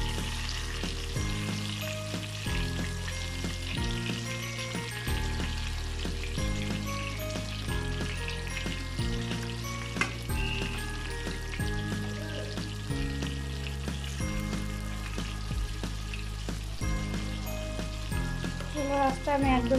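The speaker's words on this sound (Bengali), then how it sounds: "লো হিটে ভাজছি" Giant freshwater prawns fry in oil over low heat, giving a continuous soft sizzle beneath steady background music for the whole stretch.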